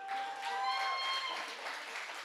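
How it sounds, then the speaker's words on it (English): A stand-up comedy audience applauds steadily throughout, a dense wash of clapping with faint cheers and whistles mixed in. "Clap it up for yourselves."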